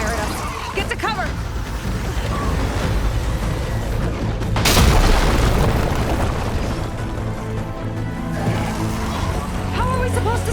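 Hostile machine in Horizon Forbidden West firing on the player, with a loud booming explosion mid-clip over a constant roar of rumbling game effects and music, while game characters talk.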